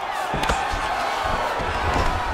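A UFC arena crowd at a heavyweight bout reacting to a strike, a loud sustained roar with sharp thumps and swells of noise.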